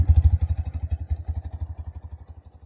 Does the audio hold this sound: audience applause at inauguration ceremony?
no